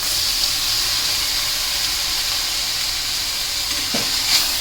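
Green gram frying in oil with drumstick leaves sends up a continuous, even sizzle and hiss from the pan, with a faint clink of utensils near the end.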